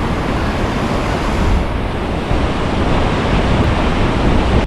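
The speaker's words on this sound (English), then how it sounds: "wind is just miserable on a cold day" Cold wind gusts across a New Jersey creek in winter, a loud, close rushing roar that buffets steadily throughout with no talk.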